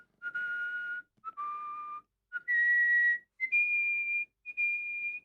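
A world whistling champion whistles clear, pure sustained notes in a short melodic phrase of about five held tones separated by brief pauses, close and alone.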